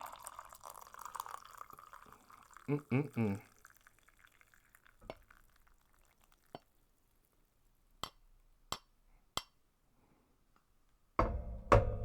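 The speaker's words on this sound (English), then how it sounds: "gonna fill up the cup" Hot ginger tea is poured into a cup in a quiet room, a brief liquid pour and stir near the start, followed by several sharp, isolated drips or clinks, then a louder burst of handling at the end.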